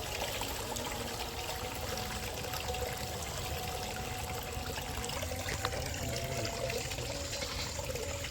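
Coconut milk is poured over fish in a cooking pot, a steady soft trickle and liquid gurgle continuing throughout at close range.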